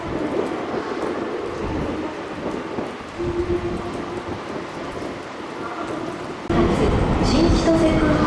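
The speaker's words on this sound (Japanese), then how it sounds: "まもなく6番線に列車が到着します。" A JR Hokkaido train arrives at platform 6 of Sapporo station after rain, giving a broad rumbling roar that swells louder near the end, with faint tonal squeals and a platform announcement voice underneath.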